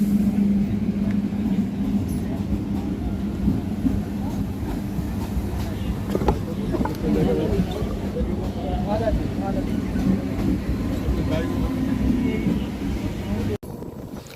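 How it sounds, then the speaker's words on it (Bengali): A Howrah–Amta 4:10 local train runs through a steady, loud low rumble with wind buffeting the microphone, continuing unbroken until a sudden cut near the end. "এটা হচ্ছে হাওড়া আমতা চারটে দশের লোকাল ট্রেন"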